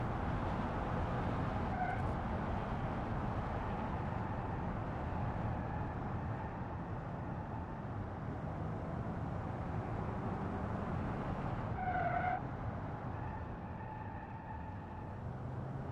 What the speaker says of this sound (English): You can kind of hear the engine a little bit. Still very quiet.